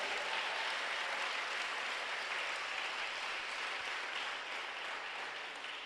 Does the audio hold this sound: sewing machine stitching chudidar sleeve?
no